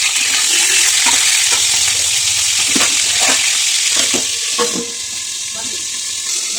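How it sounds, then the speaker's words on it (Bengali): Chicken pieces for butter chicken sizzle and hiss in a hot kadai while being stirred, with repeated scraping clatters of the spoon against the pan, close and steady. "খুব হালকা করে মাংসটাকে আমরা ভেজে নেবো।"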